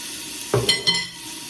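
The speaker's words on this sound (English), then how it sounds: "So here we go, in goes the onion. Lovely little sizzle." Onion dropped into a hot pan with garlic, bursting into a loud close sizzle with a brief clatter of stirring, lasting about half a second before settling to a softer hiss.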